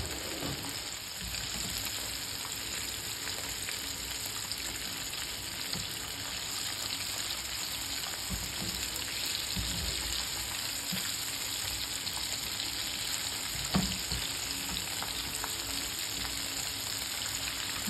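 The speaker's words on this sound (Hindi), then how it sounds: "हमें इसको मीडियम से लो फ्लेम पे हमें इसको फ्राई करना है" Chicken fingers shallow frying in oil in a pan over a medium-low flame, a steady dense sizzle and crackle that runs on without a break, with a few sharper pops and spits along the way.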